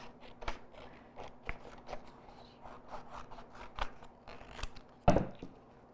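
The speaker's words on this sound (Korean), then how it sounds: "색깔 카드 판은 선생님처럼 이렇게 잘라주세요" Scissors snip through a colour card board in a quiet room, a quick series of light, close cuts followed by one louder rustle near the end, and no one speaks.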